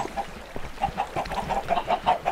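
Chickens on a Minecraft chicken farm give short, repeated clucks in a quick irregular rhythm, close and moderately loud over a faint background.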